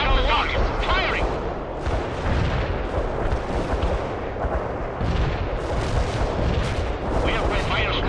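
Missile launches and artillery fire rumble through a World in Conflict battle, dense booms and blasts rolling continuously at high volume, with radio-style voice callouts from units over the combat.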